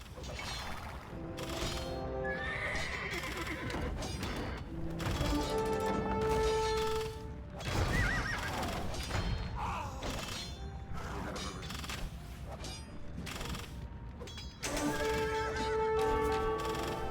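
Horse neighing in the Age of Empires II: Definitive Edition strategy game, a few whinnies rising over dense battle and game sound effects, with gear-like clicks and layered ambient noise throughout.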